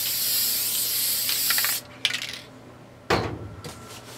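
An aerosol can sprays adhesive onto a screen printing board in a steady loud hiss for nearly two seconds, followed by a clatter and another brief spray burst with light knocks.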